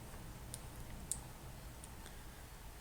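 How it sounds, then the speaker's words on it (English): Several faint computer mouse clicks, spaced about half a second apart, sit over a quiet steady background hiss while someone navigates to an FAQ page on an India e-visa website. "let's click on FAQ"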